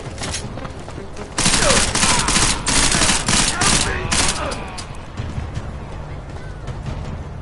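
Rapid automatic gunfire erupts in a PS4 shooter game, loud bursts of overlapping shots that start abruptly and continue for several seconds before easing into lower background rumble, with a voice heard in the mix.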